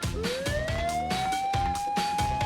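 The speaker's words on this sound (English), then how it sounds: "Then suddenly, I heard a police siren." A loud police car siren wailing close by, its tone rising and holding high, with a rapid pulsing warble beneath.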